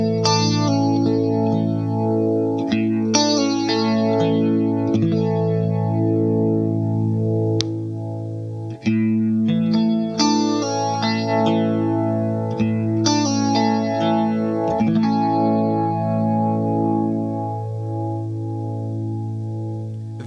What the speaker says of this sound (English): those arpeggio kind of notes were run through the Boss RV3 digital delay and reverb